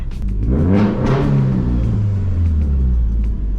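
Big-turbo Subaru STi engine revs up and holds a loud, deep, throaty drone close by, with a rising then falling pitch sweep and wind noise around it.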